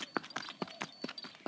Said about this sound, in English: Look, there's a horse.